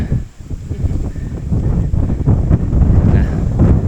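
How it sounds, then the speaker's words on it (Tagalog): Strong wind on Tarak Ridge buffets the microphone in loud, rumbling gusts that swell and roar continuously for a few seconds. "Lakas ng hangin guys."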